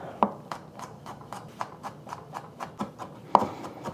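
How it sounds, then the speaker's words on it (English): A knife chops garlic finely on a cutting board in a steady series of crisp, evenly spaced taps, close and clear, with one sharper knock near the end and no talking. "I just want to chop this up finely."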